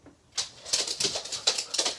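Dogs' claws clack rapidly across a sofa, a quick irregular series of sharp, dry taps close by that grows busier after a quiet start, with no talking.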